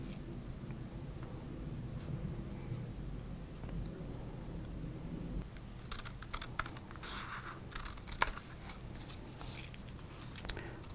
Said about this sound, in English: The 87 Topps cards. Really nice to cut up.